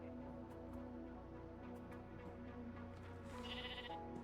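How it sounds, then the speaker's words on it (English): Sheep in the Minecraft video game bleat against a steady droning game background, a couple of faint, quavering calls heard alone without speech. "More sheep."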